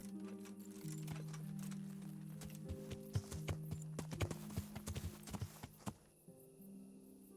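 Horse hooves clip-clop in a steady trotting rhythm in the medieval video game Kingdom Come Deliverance, moderately close over a sustained musical drone, then stop.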